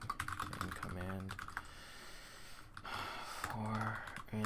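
Computer keyboard typing while entering C++ code at a command line, a steady run of soft clicks with a short pause midway, mixed with some background sound.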